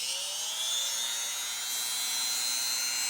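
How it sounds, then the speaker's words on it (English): A Radley corded Dremel rotary tool runs at its lowest speed with a thin, steady high-pitched whine, slowly rising in pitch as it spins up, close and alone. "Let's fire this thing up. We're going to start with the lowest speed"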